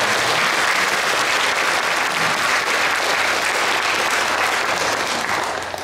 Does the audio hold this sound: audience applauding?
yes